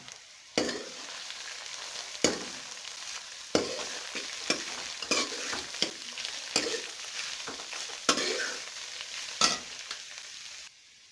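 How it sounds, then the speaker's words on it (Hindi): Radish bhujiya sabzi stir-fried in a pan, a steady sizzle broken by sharp, regular scrapes and clatters of the stirring spoon about every one to two seconds, close and fairly loud with no talking. "सब्ज़ी को अच्छी तरह से भून लेंगे।"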